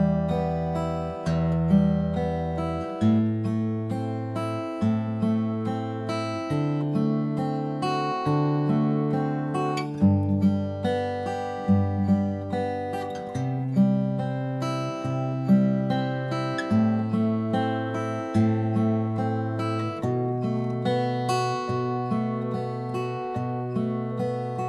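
An acoustic guitar fingerpicking a steady repeating pattern over a chord progression, with bass notes alternating under plucked treble strings and regular chord changes, clear and close with no talking.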